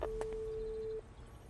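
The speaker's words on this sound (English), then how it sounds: "Now it's just ringing" A steady electronic phone tone from the game Vampire The Masquerade Swansong plays a single flat note for about a second, then cuts off and leaves quiet background hum. A couple of faint clicks come just before it.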